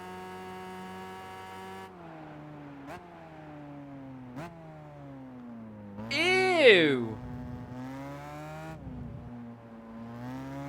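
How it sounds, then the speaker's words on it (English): A car engine in Gran Turismo 5, BMW-like, holds a steady buzzing drone that rises and dips with gear changes and a brief squealing burst in the middle, while a person talks over it. "What is that engine note?"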